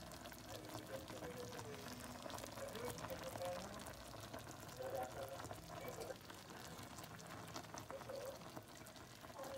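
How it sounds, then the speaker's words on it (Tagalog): Chicken simmers in a soft-drink sauce that has nearly cooked down, giving a steady, soft sizzle and bubbling throughout, with a voice speaking over it. "niluto ko po sa soft drinks na chicken. Malapit na matuyo yung kanyang sauce"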